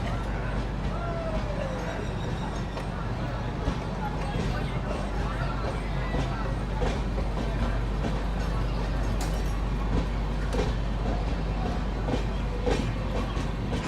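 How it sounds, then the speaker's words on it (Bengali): The Dibrugarh–Kanyakumari Vivek Express passes close alongside near New Bongaigaon Junction, a steady broadband rumble of wagons rolling by for the whole stretch, with faint voices in the background. "আমার পাশ থেকে যে ট্রেনটা যাচ্ছে, এটা হচ্ছে ডিব্রুগড় কন্যাকুমারী বিবেক এক্সপ্রেস"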